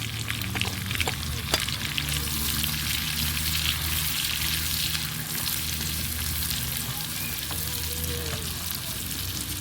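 Steady sizzling of onions frying in butter in a pan, a continuous crackling hiss with occasional soft clinks, no voices.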